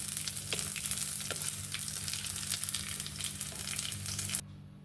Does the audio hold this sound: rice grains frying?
yes